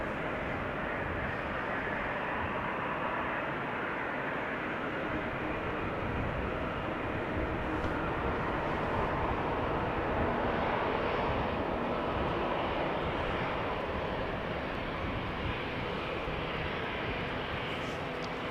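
A Lufthansa airliner approaching at Amsterdam Schiphol Airport, its broad steady jet roar held at a constant level throughout, with no talk.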